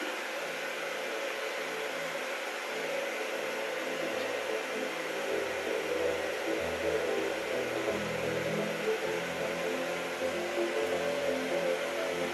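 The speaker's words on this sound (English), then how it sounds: "the sound you're hearing is actually the Buttkicker itself" A Buttkicker tactile transducer vibrates along with music, producing a faint, continuous buzzing hum with low, shifting rumbles and no voices.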